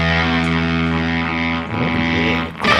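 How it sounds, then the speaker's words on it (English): A heavily distorted, buzzing electric guitar tone through a small homemade fuzz pedal, held out loud and sustained, then shifting pitch briefly before a sharp change near the end. "a tiny homemade fuzz pedal that somebody made and then gave to Sound Source"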